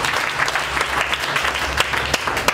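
Sustained congregational clapping in a church, loud, even and continuous, with a few sharper claps standing out near the end.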